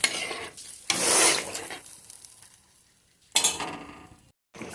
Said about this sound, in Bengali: ঝোলটা ফুটে আসুক, তারপর দিয়ে দেবো মুঠাগুলি।